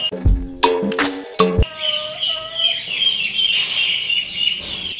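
A bald rooster sunning itself gives a few loud, abrupt clucks up close, then softer drawn-out calls and chirpy bird sounds follow in the background.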